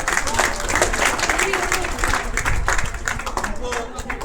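An audience claps at a student achievement award ceremony. The applause is dense and steady, fairly close, and a voice speaks over it.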